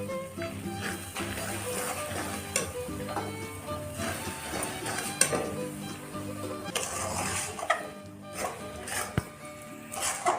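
Grated coconut stirred in a pan as a sweet filling for dudhpuli pitha, with soft scraping, light clinks of the utensil and a faint sizzle running steadily close by.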